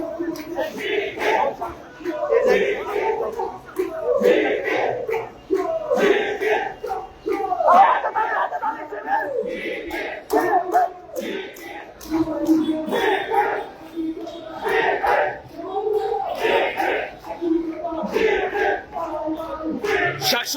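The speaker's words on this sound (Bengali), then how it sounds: "আমরা দেখানোর চেষ্টা করছি সরাসরি মিছিল থেকে মিছিলের স্লোগান" A student protest march in Gazipur, Bangladesh, over a postponed university election, the crowd chanting slogans in rhythmic call-and-response bursts, steady and loud throughout, with a voice leading the chants.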